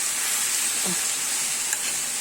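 Soft, steady sizzling of food frying in oil, a continuous close hiss with a faint stir or clink.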